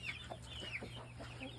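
Chickens at feeding time on a barn farm cluck in quick, chattering bursts over a steady low hum, close and moderately quiet.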